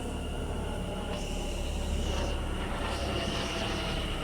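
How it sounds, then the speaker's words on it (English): A helicopter flies over Stafford railway station on the West Coast Main Line at rush hour. Its engine and rotor drone is steady and moderately loud, with faint rising and falling tones layered over the station background. "chopper."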